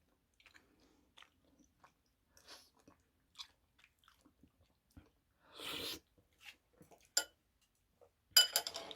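Close, quiet sips and soft bites of creamy rosé tteokbokki broth, eaten ASMR mukbang style, come as sparse isolated mouth sounds with a louder slurp near the middle and another at the end.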